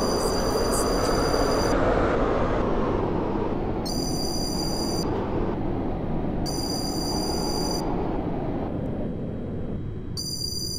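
A train in the Roblox game Stepford County Railway rumbles steadily along with a continuous roar, while a high chiming tone sounds repeatedly at intervals over it.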